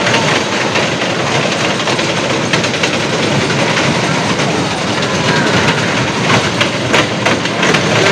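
A toy train ride running at the Baruipur Ras fair makes a steady, loud rattling rumble with a faint clickety-clack, continuous throughout with no talk.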